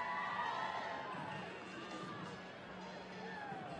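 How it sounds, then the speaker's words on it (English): A home crowd at Starfire Sports Stadium cheers and roars through a rugby match between the USA and Canada. The dense, sustained wall of voices swells and dips slightly without pause. "Getting this home crowd fired up here at Starfire Sports Stadium."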